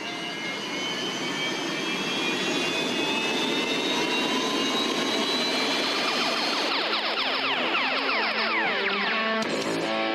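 A turbine-powered unlimited hydroplane, the U99.9 CarStar, in a Seafair race at Seattle within the Hydro 2D Racing video game, gives a steady, loud jet-like whine that rises and sweeps in pitch throughout, with no talking over it.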